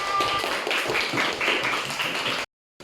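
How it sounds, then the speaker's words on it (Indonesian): Classroom applause for a student group, a burst of clapping from many hands lasting about two and a half seconds and then cutting off abruptly. "Oke, aplaus dulu untuk kelompok 2"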